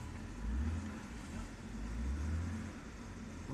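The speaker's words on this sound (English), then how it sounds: "Car is running." Low, quiet rumble of a 2008 BMW 328i engine idling, a soft steady hum with slight swells, heard from a little distance with no talk over it.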